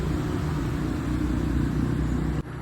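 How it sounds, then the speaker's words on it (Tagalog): Road traffic on the street beside a house, heard from an upstairs room after rain: a steady low rumble of passing cars and motorbikes, continuous and fairly close, cutting off abruptly near the end. "Kaya may maririnig kayo dyan ng mga sasakyan."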